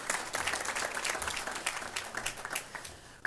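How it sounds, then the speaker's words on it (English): Clapping from an audience at a school board meeting fills the whole stretch, a steady, moderately loud patter of many hands without voices. "let's clap it up."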